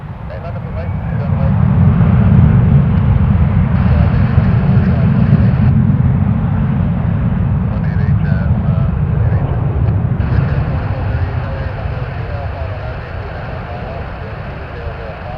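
KLM Boeing 787-10 taking off from runway 23 at Toronto Pearson Airport, a loud, steady low jet roar building and holding for the whole stretch before slowly easing, with faint talk in the background.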